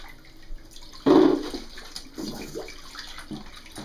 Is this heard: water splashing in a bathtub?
yes